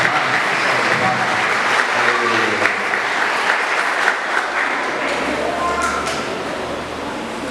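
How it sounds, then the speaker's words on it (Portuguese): Wedding guests applauding in a continuous dense round of clapping that fills the room, loud and sustained throughout, with voices murmuring underneath. "Dá uma salva de palmas."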